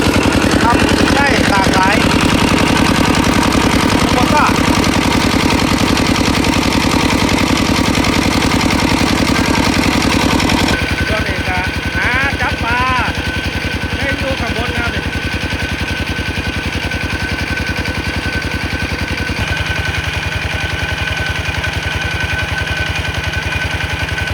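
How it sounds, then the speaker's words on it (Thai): A single tractor engine runs steadily near a draining fish pond, a loud continuous mid-pitched chug that drops in level partway through, with voices talking over it. "ใช้รถไถเครื่องเดียวครับเนี่ย"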